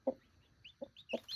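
A broody hen clucks softly over nine chicks tucked beneath her, giving three short, separate clucks with brief quiet gaps and faint higher chick peeps in between.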